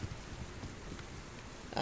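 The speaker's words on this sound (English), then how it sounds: "See, it's raining." Rain falls in the survival video game Subsistence as a steady, soft hiss and patter, continuous and fairly faint throughout the short stretch, with a brief louder noise at the very end.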